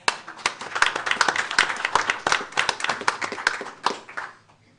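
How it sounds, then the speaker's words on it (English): A round of applause at a school board of education meeting, many hands clapping close by in dense, uneven bursts that thin out and fade near the end. "Another round of applause."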